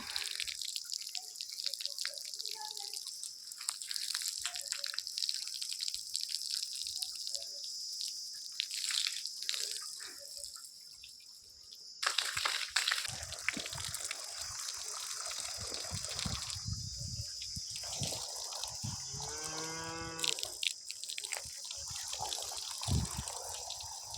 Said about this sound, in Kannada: ಒಂದು ಕಡೆ ಇಟ್ಕೊಂಡ್ರೆ ತುಂಬ ಚೆನ್ನಾಗಿ ಹರಿಯುತ್ತೆ ನೀರು